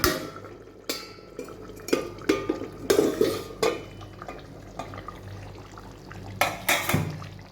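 A lid comes off a pot of cooking chicken with several sharp metallic clanks and scrapes, followed by quieter bubbling and stirring sounds, close and alone without talk.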